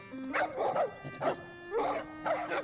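Several video game dogs in Sea of Thieves bark and yip in quick bursts, fairly close, with some whining and a steady low tone running underneath.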